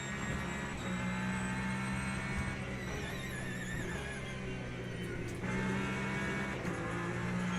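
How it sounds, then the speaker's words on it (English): Ferrari race car accelerating in the Le Mans Ultimate racing game, a steady loud engine drone with rising and shifting whine tones and brief gear changes throughout. "Oh, the Ferrari acceleration."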